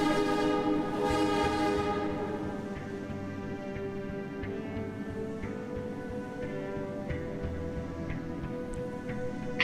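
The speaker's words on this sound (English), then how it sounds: "See, boss, there is a train to Metropole." A train pulls into Outskirts Station in the Primordia video game. Its horn sounds loud and tonal at the start, then gives way to a sustained mechanical hum with faint clanks.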